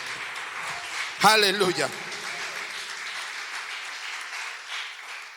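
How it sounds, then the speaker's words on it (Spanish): Church congregation applauding during a service, a sustained wash of clapping from many people with a brief shouted voice cutting through near the start. "Dale un aplauso al Rey."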